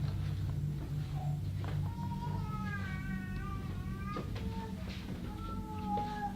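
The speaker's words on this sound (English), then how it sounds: "Even the cats are upstairs" Cats meowing upstairs in a house during a tense night, several drawn-out wavering meows from a distance over a steady background hum, with no clear talk.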